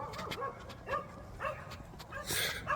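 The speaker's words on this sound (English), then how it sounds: "Damn dog." A dog barks in short, sharp yips, several quick barks spread out, faint and somewhat distant against a quiet background on a windy day.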